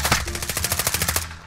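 A quick, steady burst of about a dozen rapid automatic gunshots in Call of Duty Modern Warfare 2019, evenly spaced and close, lasting just over a second.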